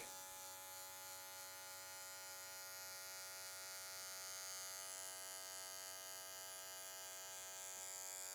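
An electric hair clipper cutting a fade hums steadily with a bright tonal buzz and faint rasping through hair, close by and without talk.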